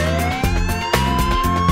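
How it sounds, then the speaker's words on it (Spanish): A police patrol car siren wails in a rising tone, loud and close, within a children's song. Rhythmic musical beats pulse beneath it throughout the short stretch. "La sirena de la patrulla hace wow, wow, wow."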